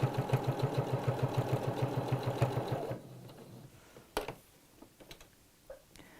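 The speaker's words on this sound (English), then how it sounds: "And we'll neatly sew all around the edge." A sewing machine stitches around the edge of a fabric sewing-circle project, chattering fast and evenly for about three seconds before stopping, followed by a few faint clicks and handling noises.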